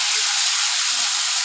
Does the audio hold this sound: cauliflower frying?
yes